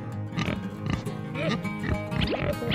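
Baby-pig grunts and squeals repeat over a busy background of a toy farm diorama play, with a voice mixed in that may be imitating the oinks.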